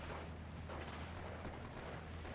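A 45mm gun firing on SdKfz vehicles in the strategy game Steel Division 2, heard as a steady, distant rumble of artillery and explosions without distinct separate shots.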